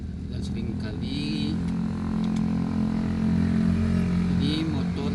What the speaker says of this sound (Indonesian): knalpot brong berisik